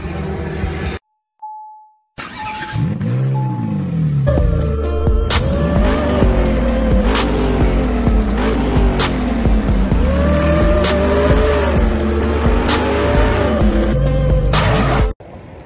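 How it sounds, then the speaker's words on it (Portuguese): Drag race cars running at a São Paulo racetrack during an Armageddon drag event, loud engines revving and roaring with rising and falling pitch and tire squeal, after a brief tone and silence at the start. "Tá rolando uma corrida ali na pista"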